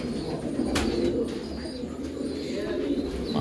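Soft, low cooing comes from a pure white Sendhwa Kalanja pigeon on a farm near Hyderabad, repeating gently against a steady murmur with a brief sharp tick early on.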